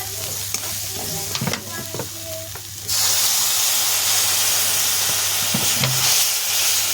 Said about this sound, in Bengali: একটু নেড়ে নেব, নেড়ার পর একটু কষা হয়ে যাবে